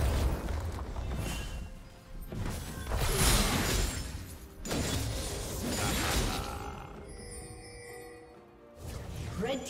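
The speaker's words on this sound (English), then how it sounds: "Red team's turret has been destroyed." Turret being destroyed in League of Legends, a Darius versus Jax top-lane match: repeated heavy crashing and shattering bursts with booming impacts, loud and near, in surges across the whole stretch, ending with a brief metallic chime.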